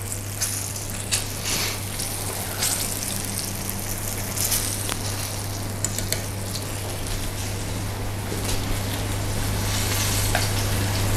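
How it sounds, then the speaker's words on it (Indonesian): Steady sizzling of chicken pan-frying in oil, a continuous crackling hiss with occasional pops, plus a low constant hum underneath, no talking. "Ini kita goreng ya, kita pan fried, kita goreng gitu ya"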